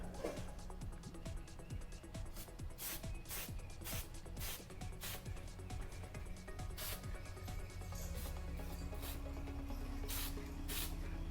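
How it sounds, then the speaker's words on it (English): Short bursts of white all-purpose spray paint hiss from an old aerosol can onto a Boba Fett helmet. The sprays come one after another in a steady rhythm, up close and alone. "I'm going to go on with the basic white spray paint"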